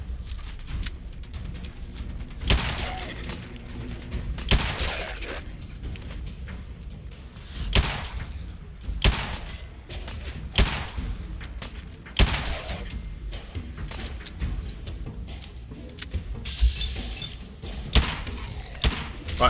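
Gunfire in Fallout 4 comes as repeated heavy shots and thuds spread throughout, fairly loud and close over a dense game soundscape with background music.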